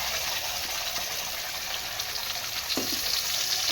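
Tomato and ginger paste frying in a pan with whole cumin, a dense continuous sizzle and hiss up close, with a couple of soft stirring scrapes near the end and no talking.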